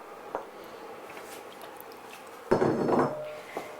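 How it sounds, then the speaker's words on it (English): Turkey pie filling with its juices being gently folded through sauce in a very full pan, a few soft scrapes and wet clinks of a utensil against the pan, quiet and close, with one brief louder stirring stretch. "Just going to gently fold that through because I'm on the limit with my pan"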